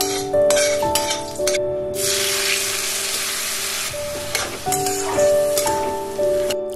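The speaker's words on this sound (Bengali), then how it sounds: "চালটাকে বেশ কিছুক্ষণ ভেজে নিতে হবে" Gobindobhog rice fries in ghee with cloves in a pan, giving a bright, sizzling hiss that swells in the middle, with a few stirring scrapes over a steady tonal melody in the background.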